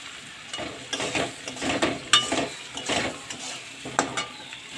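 Pomfret fish curry with turmeric and salt stirred in a pan, bursts of scraping and clinking spatula strokes over a soft frying sizzle, without speech.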